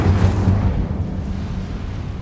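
A fire spell cast in the Hogwarts Legacy video game: a low, rumbling whoosh of flame bursts out at the start and then fades into a steady, softer roar.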